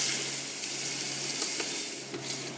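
Pan juices from pork fillet sizzling with cream and apple sauce, a steady soft frying hiss with faint scraping from stirring, no voices.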